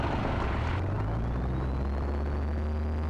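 Cessna 172N light aircraft at full takeoff power, a loud, steady propeller and piston engine drone heard from inside the cabin, with a slowly rising whine riding over it.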